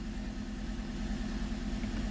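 A Toyota Corolla Altis engine idles with a low, uneven rumble, misfiring when shifted into reverse or drive, its steady drone wavering slightly as if running rough.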